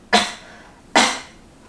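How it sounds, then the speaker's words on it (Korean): Two sharp, close coughs about a second apart from a person lying down with a finger pressed just below the navel, each burst fading quickly into quiet. "누워서 배꼽에서 5cm 정도 아래에 손가락을 눌러 기침을 해보십니다."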